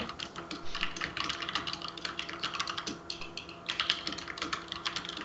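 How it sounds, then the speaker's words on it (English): Someone types a long message on a computer keyboard, a dense, continuous patter of quick key clicks with brief pauses, steady and close throughout. "that's the pitter patter of somebody typing out a long message"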